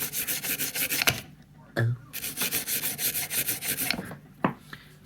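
Soft scrub pad rubbed over a surface in quick rhythmic back-and-forth strokes, close and steady, broken by a couple of brief knocks and pauses, with a short spoken exclamation in the middle.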